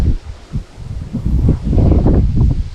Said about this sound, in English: Yeah, this wind, I don't like this wind one bit.